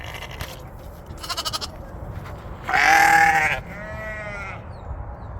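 Sheep bleat in a pasture guarded by Great Pyrenees dogs, with a few distinct calls, one loud and near and one fainter, over a low steady outdoor rumble.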